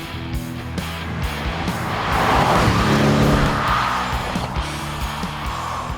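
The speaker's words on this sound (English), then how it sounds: "So we've been driving around now for 3-4 hours today in the RS7" An Audi RS7 drives past with a deep engine roar that swells and fades, tires hissing on the road.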